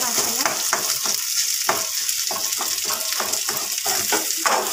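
Rice is stirred and fried in a pan at home, with a loud continuous sizzle broken by rhythmic scraping strokes of the spoon against the pan.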